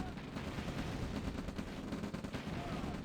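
Dense, continuous gunfire from units fighting in the real-time strategy game OpenRA Red Alert, overlapping shots and bursts forming a steady loud clatter for the whole stretch.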